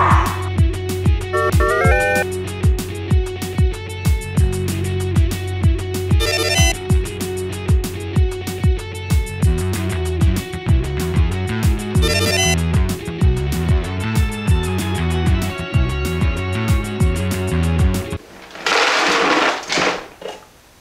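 Arduino-driven electric dog feeder running, a loud close mechanical whir with rhythmic clicking and clattering, strong tonal motor hum and repeated pulses throughout, ending in a brief burst of rattling noise.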